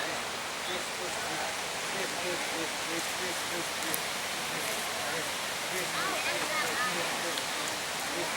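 Pha Suam waterfall at a market roars as a steady, dense broadband rush, constant and moderately loud throughout with no breaks.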